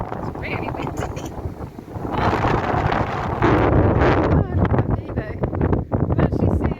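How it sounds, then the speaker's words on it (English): Strong wind gusting across an exposed hillside on the Offa's Dyke path near Llangollen, a loud roaring buffet on the microphone that builds in the middle, with a voice speaking over it. "really windy."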